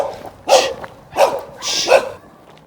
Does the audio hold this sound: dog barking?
yes